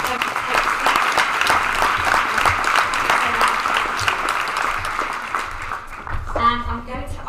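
A seated audience at a panel event on men's caregiving claps in a sustained, dense round of applause, loud and close, tapering near the end as a voice begins speaking.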